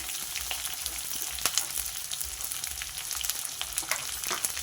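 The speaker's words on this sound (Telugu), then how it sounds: "ఉల్లిపాయలు కొంచెం వేగాలండి" Chopped onions and green chilies fry in tempering oil with curry leaves and garlic, a close, dense crackling sizzle running throughout with faint stirring and no voices.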